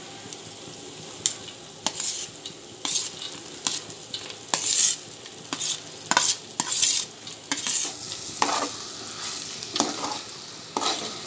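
Fried masoor lentils being stirred into cooking masala for a Konkani masoor pulao, with repeated scraping strokes of a spoon against the pan over a soft sizzle, close and fairly quiet, no talking.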